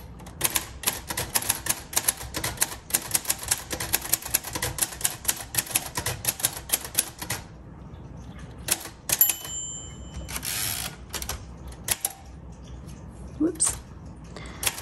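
Typing on a red 1956 Royal Quiet Deluxe manual typewriter: rapid clattering keystrokes in bursts, a bell ding and carriage sounds, then sparser clicks, close and clear with occasional speech.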